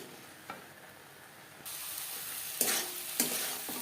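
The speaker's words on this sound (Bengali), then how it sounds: "এভাবে নাড়াচাড়া করতে থাকবো যতক্ষণ না পর্যন্ত কড়াই থেকে ছেড়ে আসছে" Carrot halwa, its milk cooked down, is stirred in a wok with repeated scraping strokes that come in a few louder bursts over a steady low background hiss.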